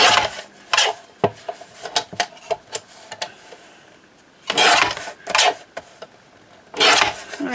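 Quick, separate snips of scissors trimming paper butterflies cut from kit ephemera, a run of short crisp cuts followed by a few longer rustling cuts, close and fairly loud.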